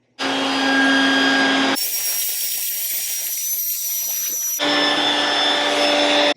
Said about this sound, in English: I did grab my ShopVac because we are going to get the rust out of there before we start putting the new stuff in.